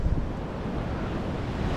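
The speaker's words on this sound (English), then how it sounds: "Conditions are good, small swell, the wind's starting to pick up." Wind gusting across a rocky shore ledge in Sydney, Australia, with small swell washing below, a steady close roar of buffeting wind and surf with no pause throughout.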